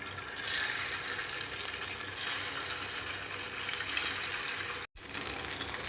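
Rava rings sizzle in hot oil in a pan, giving a steady, fairly quiet frying hiss that breaks off in a brief gap near the end before resuming.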